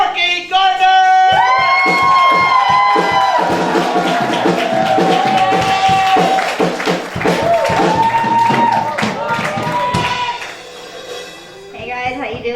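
A live comedy audience claps, whoops and cheers as a comedian walks onstage, with a dense wash of applause and shouts throughout and music playing under it.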